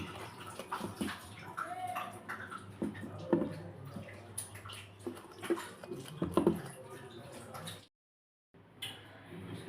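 Water splashes and sloshes as fried lentil vada are dropped into a bowl of cold water in a home kitchen, with light drips and handling noises close by and a brief silent gap near the end.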